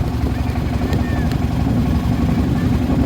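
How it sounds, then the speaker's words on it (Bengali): A tourist passenger boat draws near across the Tanguar Haor wetland, a steady low engine rumble and water wash holding at an even level throughout, with faint background voices. "পর্যটকদের বহনকারী একটা জাহাজ, নৌ জাহাজ চলে আসছে এদিকে"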